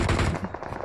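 Rapid gunfire in the BGMI battle-royale mobile game, a dense burst of loud shots in quick succession that thins toward the end, with no talk over it.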